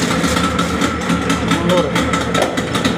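A 40 hp outboard motor runs steadily close by as it is shifted into gear, a constant low engine drone throughout, with a voice speaking over it.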